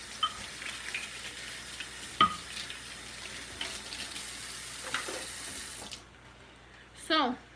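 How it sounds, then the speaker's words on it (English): A covered pot of dinner simmers quietly on the stove, giving a faint steady hiss with occasional soft clicks and bubbles. Near the end the sound drops out briefly, then a short louder burst follows. "We let it simmer a little bit."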